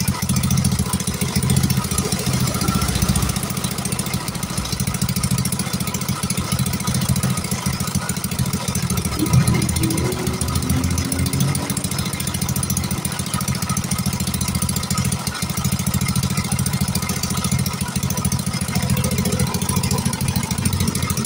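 A Yamaha Mio Sporty scooter engine idles steadily and close, a constant low mechanical drone with a brief faint whine in the middle, no talking over it.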